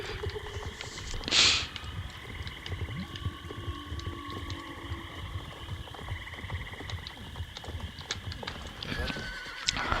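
Horse hooves clip-clop steadily while a horse neighs in the video game Star Stable Online, with the game soundtrack humming underneath and a brief bright burst early on.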